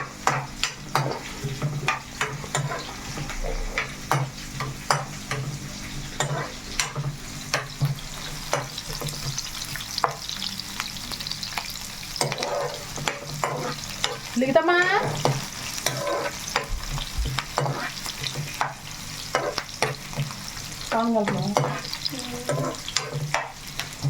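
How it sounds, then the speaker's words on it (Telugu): Onions fry in hot oil while a spoon stirs them toward brown, a steady close sizzle broken by frequent scraping and clinking strokes against the pan, with no talk. "చక్కగా ఈ ఉల్లిపాయలు అనేది మనకి బ్రౌన్ కలర్లో వచ్చేటట్టుగా మనం వేసుకుందాము"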